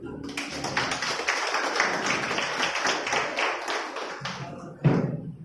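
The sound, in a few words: audience applause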